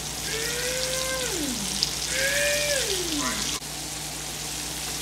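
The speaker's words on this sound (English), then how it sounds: "We got our three pieces of chicken frying." Three pieces of chicken fry in oil with a steady crackling sizzle, with faint high whistling tones sliding down twice over the hiss; no talking.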